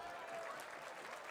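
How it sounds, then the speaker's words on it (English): A faint, continuous wash of applause fills a room at a race-night charity auction, steady and even throughout this brief moment. "Let's give the gentleman a big round of applause"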